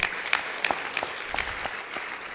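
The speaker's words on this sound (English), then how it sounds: "Please give her a round of applause." An audience at a Sunday love feast gathering applauds a first-time guest, with scattered, fairly thin clapping that stays steady and moderately soft throughout, no voices over it.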